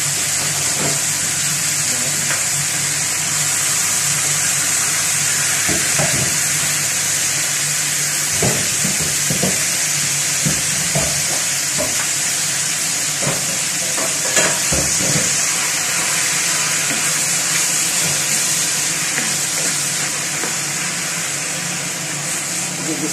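Pork for Bicol express frying in a pan, a loud continuous sizzle close by with repeated scraping knocks of a utensil stirring the meat at irregular intervals.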